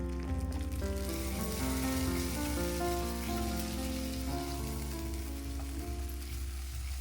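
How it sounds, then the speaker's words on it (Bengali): A ginger, garlic and chili paste fries with onions in a pan, giving a continuous soft sizzle with a gentle crackle, heard beneath louder background music. "পেঁয়াজটা ভাজা হয়ে যেতেই এর মধ্যে দিয়ে দিয়েছি আদা রসুন আর লঙ্কা বাটা এইটাও একটু ভেজে নিয়ে"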